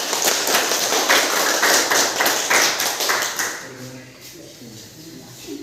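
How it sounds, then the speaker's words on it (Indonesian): A class of students clapping their hands together after a group presentation in a teacher-training practice lesson, brisk rapid clapping for about three seconds that then fades out into quiet room noise with faint murmuring. "Tepuk-tepuk di tangan."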